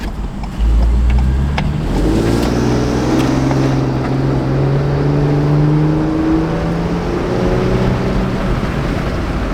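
A turbocharged Ford Police Interceptor engine revs loud and steady with a low rumbling drone, shifting tones and blow-off valve sounds, no talking over it.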